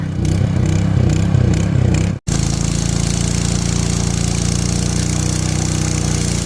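Petrol water pump engine running beside a pond, pumping water out, a loud steady droning hum close by that cuts out briefly and then resumes at an even, constant pitch.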